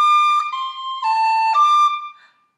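A tin whistle plays a short phrase of Garret Barry's Jig: four clear, bright notes, each held briefly and joined smoothly, ending with a quick trailing note.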